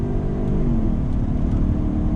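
A Lincoln Nautilus SUV in sport mode accelerates under throttle, its engine giving a steady, loud drone that holds close and even throughout with no talking.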